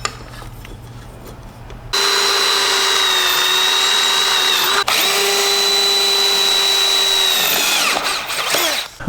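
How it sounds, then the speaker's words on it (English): Power drill boring holes, likely through wood, in one loud steady whine of about six seconds with a brief catch partway through, quiet handling noise before and after. "did I drill these holes big enough?"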